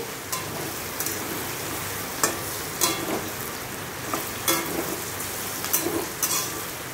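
Chicken with garlic fries in a pan, a steady close sizzle with occasional crackles and pops repeating through, no voices.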